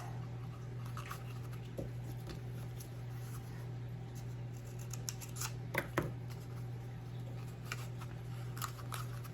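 Scissors snipping through a cardboard toilet paper roll, a few faint, isolated crisp cuts spread over a low steady background hum, with no voices.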